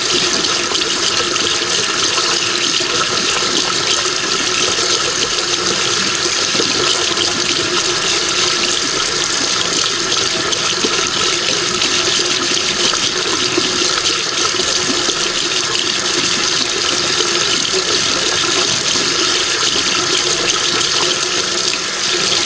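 Water runs steadily from a tap into a sink while makeup brushes and sponges are washed, a loud, continuous splashing rush with faint scrubbing mixed in, close by and without speech.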